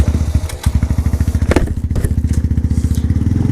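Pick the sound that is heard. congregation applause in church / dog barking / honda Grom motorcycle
honda Grom motorcycle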